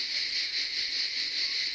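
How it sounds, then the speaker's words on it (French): Cicadas at night in the French countryside on holiday, a dense, steady, high buzzing chorus that fills the whole stretch with faint pulsing swells, loud and continuous with no voices over it. "Qu'est-ce que c'est qu'on entend? Les cigales."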